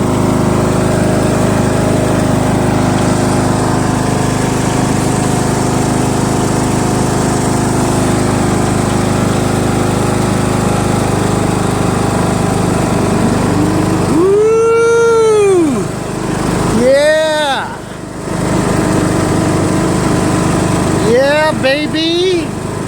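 A John Deere L100 lawn tractor engine runs steadily and loud throughout at a constant idle-like drone, with a few brief squeaky sweeping sounds late on.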